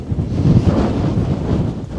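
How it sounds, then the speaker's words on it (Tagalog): Strong wind roars across an exposed, snowy Tatra mountain peak, a steady loud buffeting rush with gusty swells that batter the microphone throughout. "Napakalakas ng hangin guys"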